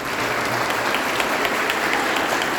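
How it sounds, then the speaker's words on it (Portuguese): Dense, steady applause from a church congregation at a Confirmation Mass, welcoming the presiding bishop, Dom Antônio, with the clapping sustained evenly and no talking over it. "eu vou pedir agora uma salva de palmas para ele"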